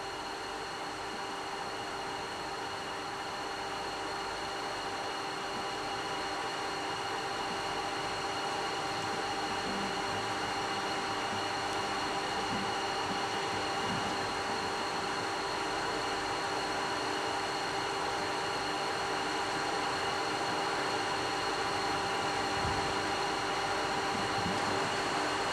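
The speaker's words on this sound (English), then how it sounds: "On this machine, the final drafting or thinning of the yarn is achieved and the full" Spinning frame machine drafting and twisting yarn, a steady loud mechanical drone with a constant high whine and even hum, unchanging throughout and without voices.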